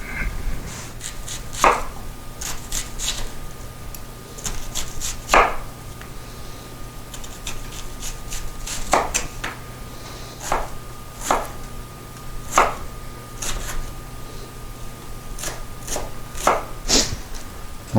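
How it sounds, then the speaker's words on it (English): A knife dices celery, onion, potatoes and garlic on a cutting board. The sharp chops come close and clear, spaced irregularly over a low steady background hum. "So we're going to start dicing up celery and an onion, and we'll chop up some potatoes too and some garlic."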